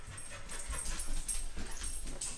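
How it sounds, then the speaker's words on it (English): A dog whimpers and pants while circling, with soft breathy panting and faint whines running steadily and fairly close, no talking. "Dog's just going around in circles"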